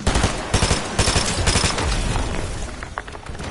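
Rapid automatic fire from a turret in Fortnite, a dense burst of loud, close gunshots rattling for the first couple of seconds before thinning into scattered shots and impacts.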